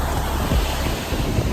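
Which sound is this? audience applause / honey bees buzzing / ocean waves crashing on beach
ocean waves crashing on beach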